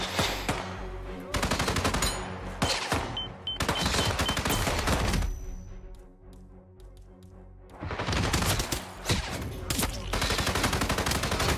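Gunfire erupts in Hitman 3 played in VR, loud bursts of rapid shots that drop out for a couple of seconds in the middle before resuming just as heavily.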